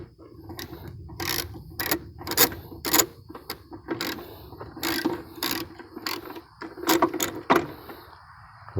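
A ratchet tightening the belt on a DR trimmer mower, with close, crisp bursts of rapid clicking separated by short pauses.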